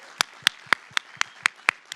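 At a Realtor association anniversary gala, hands clap in a slow, even rhythm, about eight crisp separate claps close by with quiet gaps between them.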